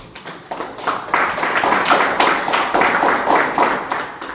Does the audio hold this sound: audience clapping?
yes